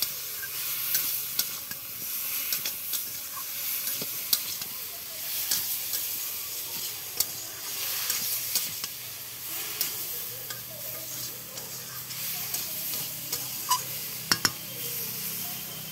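Spicy taro-leaf mixture stir-fried in a pan, with a steady hiss and sizzle throughout and scattered scrapes and clinks of a utensil against the pan.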